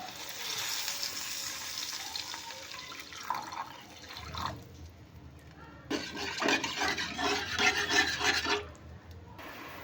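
Water poured into a frying spice paste for a green banana curry brings a sharp, bubbly sizzle that surges, briefly quiets, then flares up loudly again.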